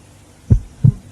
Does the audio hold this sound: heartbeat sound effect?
yes